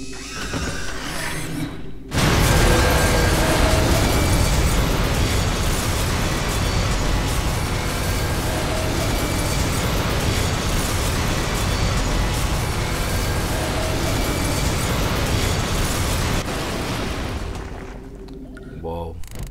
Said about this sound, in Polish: To był wybuch, co?